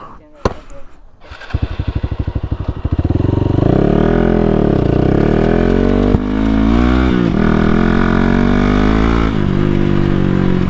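A motorcycle fitted with an aftermarket exhaust starts with a few sharp pops, then idles with a loud, throaty, chopping rumble and revs up and down close by.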